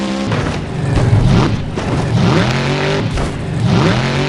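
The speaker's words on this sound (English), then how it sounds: "He's going over the crush cars there." A monster truck at a freestyle event in the Rogers Centre revs hard as it drives over crushed cars, engine repeatedly surging and dropping in loud bursts with heavy thumps, near and with no talk.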